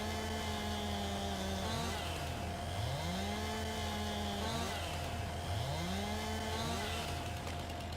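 A chainsaw cutting wood in Farming Simulator 22, a steady droning engine with pitch swoops as the blade bites and eases, continuous and close with no talking.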